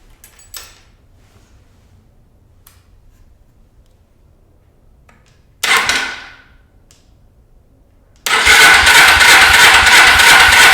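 Suzuki GS450L motorcycle with Mikuni carburetors: after quiet clicks, a short cranking burst, then the engine catches and settles into a loud, steady close idle.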